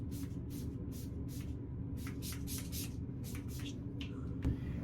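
A bridal-finish makeup setting spray mists out in repeated short, airy bursts, first four evenly spaced pumps, then a quicker cluster of about eight, soft and close over a steady background hum.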